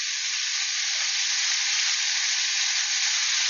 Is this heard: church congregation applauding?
no